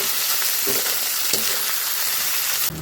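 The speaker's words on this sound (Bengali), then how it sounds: "মাছটাও পুরো গরম জলে ভিজে গেছে লবণ আর হলুদ দিয়ে আমি একটু ভেজে নিচ্ছি" Fish rubbed with salt and turmeric fries in hot oil with a continuous crackling sizzle, broken by a few light knocks from a spatula.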